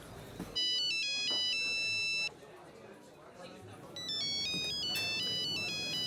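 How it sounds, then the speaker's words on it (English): A telephone ringtone plays in two electronic bursts of melodic beeps, separated by a short pause, over faint background noise. "Christ, it's ringing, what have I done?"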